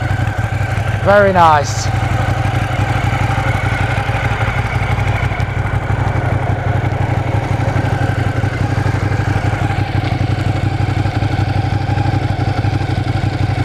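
A Ducati Diavel motorcycle cranks briefly on the starter, fires and settles into a steady, close, rumbling idle that runs to the end. Someone speaks briefly over it.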